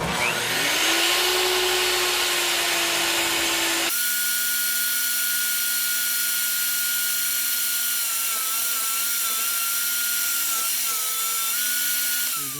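A table saw cuts a wood flooring transition piece, the blade spinning up to a loud whine, then a brief, harsher burst of cutting before settling into a steady high-pitched hum that winds down at the end, close and without speech.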